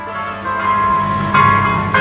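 Music plays from a small Bluetooth speaker built into a 1/10-scale RC drift car, a thin, tinny tune with a clear melody line at a steady moderate volume and no talking.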